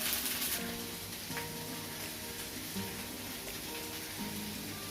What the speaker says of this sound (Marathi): आधी कांदा भाजून घेऊया